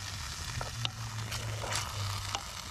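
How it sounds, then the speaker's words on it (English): Eggs set in a pan over chicken and wild herbs for an ancient Roman frittata (patina), with a soft, steady sizzle and faint crackle throughout. "Then we add the eggs and cook until they set."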